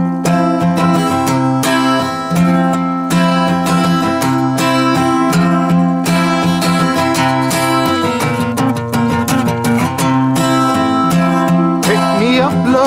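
Acoustic guitar strumming the chords of a song, played heavier without the little hop; steady, loud, continuous rhythmic chords with a driving pulse throughout.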